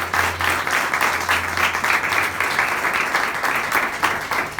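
A church congregation gives a strong round of applause to the Lord during an evening service on the Lord's Supper, a full, continuous roar of clapping at steady volume, with a low hum underneath.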